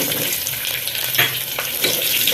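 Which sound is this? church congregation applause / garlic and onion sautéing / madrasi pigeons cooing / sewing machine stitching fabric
garlic and onion sautéing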